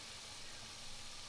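An Angus beef pot roast sears fat-cap down in a hot pot, giving a steady, close, moderately loud sizzling hiss with slight swells, and no voice over it.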